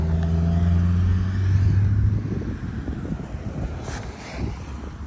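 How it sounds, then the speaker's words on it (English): Low, rumbling wind buffeting a microphone, steady and loud throughout, with gusty swells and no voices. "It's really windy right now"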